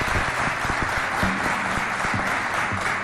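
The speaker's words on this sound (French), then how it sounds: "On les applaudit." Sustained applause from students at a school quiz contest between two lycées fills a hall, a thick steady roar of many hands with faint low thumps beneath and no speech.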